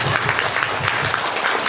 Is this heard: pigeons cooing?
no